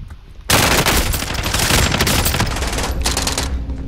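Sustained rapid gunfire in a multiplayer shooter video game, loud and close, bursting in after a brief quieter lead-in and continuing as dense automatic fire with short gaps.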